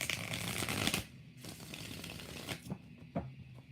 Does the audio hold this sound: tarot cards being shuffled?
yes